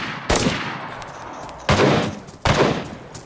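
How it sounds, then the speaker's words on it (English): Gunfire in DayZ: three heavy, booming shots spaced about a second apart, each with a loud attack and a long fading tail, nearby and with no talk. "Keep shooting him"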